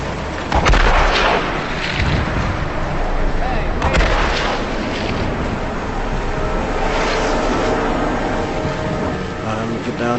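Gunfire in the Hitman Absolution video game, with sharp shots cracking out at about 0.7 and 4 seconds, then a sustained rumbling battle wash that sounds like surf or wind, loud and close.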